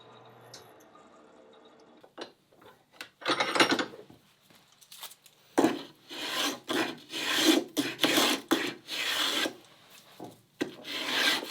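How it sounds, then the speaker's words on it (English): A spokeshave cleans up a wooden deck beam for a 2.4mR sailboat in a series of close, irregular rasping strokes, with short pauses between them. "Just a couple strokes with a spoke shave is all that needs to clean it up."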